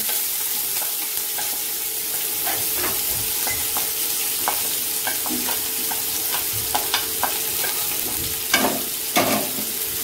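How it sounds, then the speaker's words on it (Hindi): Finely chopped onions fry in oil with chillies for a dhaba-style Punjabi dal tadka. A steady sizzle runs under repeated scraping and clinking strokes of a stirring spoon, with a few louder knocks near the end and no talking. "प्याज को डाल के हम लोग मिक्स कर लेंगे इसको तीन मिनट तक प्याज को भूनेंगे"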